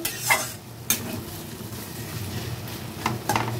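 Taro and spices fry in a pan as they are stirred, a low steady sizzle broken by several sharp scraping knocks of the spoon against the pan.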